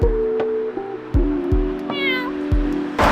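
A cat in a Lithuanian city meows several times at close range, with repeated short calls and one longer rising, wavering meow, and no speech over it.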